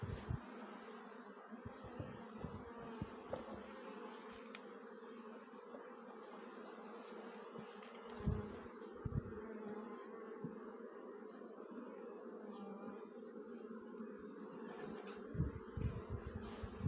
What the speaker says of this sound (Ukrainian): Рій спокійний, миролюбивий.